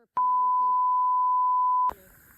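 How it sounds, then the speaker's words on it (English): A loud, steady censor bleep, a pure electronic tone, sounds alone for nearly two seconds, cutting off a spoken word, with brief bits of talk right before and after it. "I just told Jenny our code word, so I had to beep it out"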